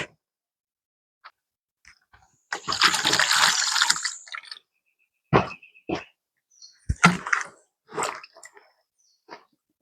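Gungo peas being washed in water for a Jamaican soup: a sustained sloshing, splashing burst near the start, then scattered close drips and wet squishy handling sounds with quiet gaps, no talking.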